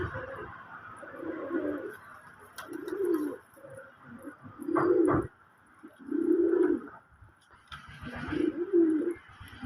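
Pigeons kept in pairs with their chicks coo repeatedly. The soft, throaty phrases come in regular bursts a second or so long, with faint chirps and small rustles between them and no talking.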